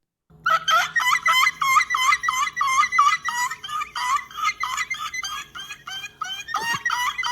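A person does a seagull imitation along with a played animation, a run of loud, repeated squawking calls in quick rhythmic bursts lasting several seconds, close to the microphone.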